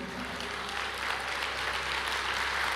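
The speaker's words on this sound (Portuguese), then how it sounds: "aplauda o Senhor" Church congregation claps together during an Easter-themed service, a dense, steady wave of applause that fills the room throughout, fairly loud, without distinct voices.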